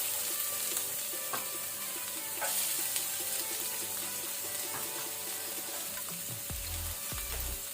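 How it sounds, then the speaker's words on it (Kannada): Steady, loud sizzle of onions frying in hot oil with cumin and fenugreek on low flame for bean sprouts palya, with occasional stirring scrapes and a few dull knocks near the end. "ಈಗ ಆನಿಯನ್ ಈರುಳ್ಳಿ ಹಾಕೋಣ."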